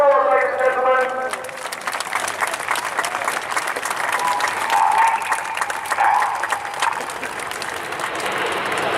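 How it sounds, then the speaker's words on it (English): A large outdoor crowd at the RIAT 2016 air show applauds the Red Arrows display team, steady dense clapping lasting several seconds, with a voice briefly audible over it. "Let's have a huge patriotic round of applause"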